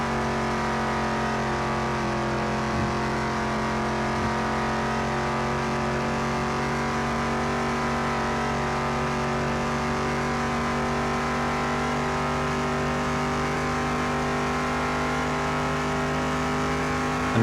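A car engine in Car Mechanic Simulator 2021 holds a steady, loud drone while driving at speed, topping out around 82 miles an hour, with a constant tone throughout and no talking.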